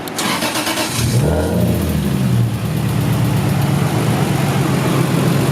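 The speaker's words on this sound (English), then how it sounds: "we'll turn the car on" A Lexus IS300 engine cranks and catches, revs up briefly, then drops into a steady idle close by.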